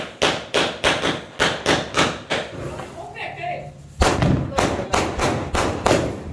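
A Diwali firecracker box called mithai ka dabba goes off outdoors as a loud, steady string of sharp thumping bursts, pausing briefly before more blasts follow, with a voice briefly heard.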